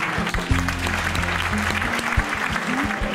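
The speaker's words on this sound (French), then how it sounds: "On applaudit le gagnant de la tombola." An event audience in Côte d'Ivoire applauds a raffle winner, steady moderate clapping from a crowd over a low sustained tone, with a few sharper individual claps.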